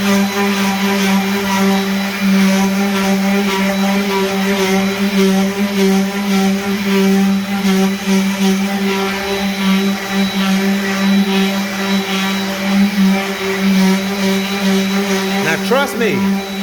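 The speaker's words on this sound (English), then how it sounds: "We've had very good success with the palm sander." A palm sander works on a hardwood floor, a steady loud electric whine with a droning hum that runs unbroken throughout, and a few faint voice-like sounds underneath.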